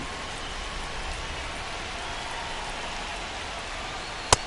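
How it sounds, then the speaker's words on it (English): Steady rain falling at a baseball stadium, a constant even hiss of drops with one sharp click near the end. "This rain is not letting up."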